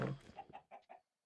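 A chicken in the Minecraft video game gives several short, clipped clucks in quick succession, close and fairly quiet, with a brief pause before a final cluck.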